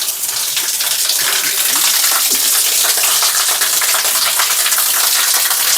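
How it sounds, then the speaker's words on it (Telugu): A steady gush of water spills from a Nandi statue at a temple spring into a pond, loud and close with a continuous splashing rush and no voices. "నంది దగ్గర నుండి నీళ్ళు వస్తున్నాయి."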